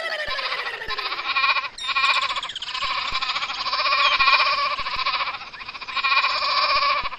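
Cartoon goats bleating loudly and close in a long, wavering, layered chorus that rises and falls with brief dips and barely pauses, with no talk.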